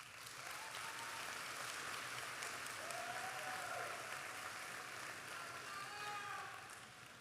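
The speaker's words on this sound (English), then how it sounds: "you need to give them a round of applause." A graduation audience at the Finneytown High School commencement applauds in a steady, dense roar of clapping that holds for several seconds, with faint crowd noise mixed in.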